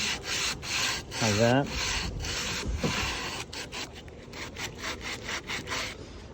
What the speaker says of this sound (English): I'll get my sanding block in that groove